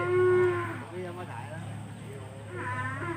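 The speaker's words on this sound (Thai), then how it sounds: "เนี่ยครับก็ควายพี่อ้วนนะครับ" Water buffalo at a livestock market in Wat Bot, Phitsanulok, lowing in a loud, close moo, followed by a second, softer call, with people talking in the background.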